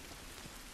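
Steady, dense rain falling on surfaces in the video game The Last of Us, set in a city, a continuous hiss with no talk or thunder standing out in the short stretch.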